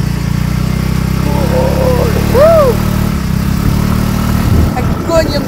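A scooter engine hums loud and steady while riding near Zlatni Rat beach in Croatia, with a continuous close drone and wind rush and a brief tonal chirp midway.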